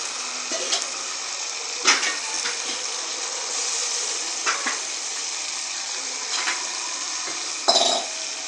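Water poured into a pot of simmering potato-pea curry, a steady hissing sizzle with a few clinks and stirring knocks, close and continuous, with no voices.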